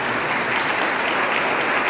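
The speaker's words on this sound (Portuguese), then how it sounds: "Uma salva de palmas aos padrinhos e madrinhas" Steady applause from a church congregation at a Catholic confirmation Mass, honoring the godparents; dense continuous clapping fills the room at an even level throughout.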